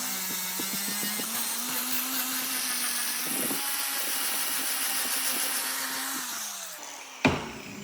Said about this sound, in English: A soft polishing wheel strips this away gently.